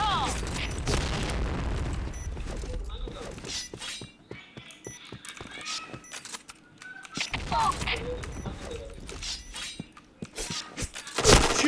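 A grenade blast in a Counter-Strike style shooter opens with a heavy rumbling boom, followed by scattered sharp gunshot cracks, metallic clatter and intermittent game voice lines.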